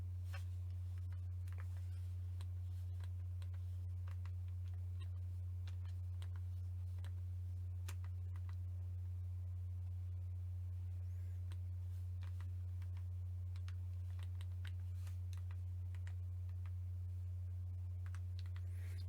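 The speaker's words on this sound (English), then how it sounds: "Let me just type into my calculator" Light, quick button taps on a calculator keypad, a run of faint clicks under a steady low electrical hum.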